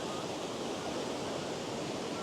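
Water of a Black Forest waterfall in Germany pouring between rocks, a constant, full-bodied rushing roar heard up close with no break.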